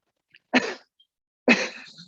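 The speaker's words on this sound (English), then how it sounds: "if you just cough" Two sharp, close coughs about a second apart, each a single forceful burst against silence.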